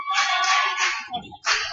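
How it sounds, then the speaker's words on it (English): Student section crowd clapping at a boys high school basketball game, a dense wash of hand claps from across the gym, steady, then a brief dip and a second burst. "A lot of clapping going on over there in the student section"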